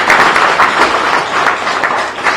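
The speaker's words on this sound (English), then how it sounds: "give yourself a round of applause for that" An audience applauding after an address by Ramaphosa at The Ranch Resort, a dense, loud wash of many hands clapping that stays steady throughout, no voices.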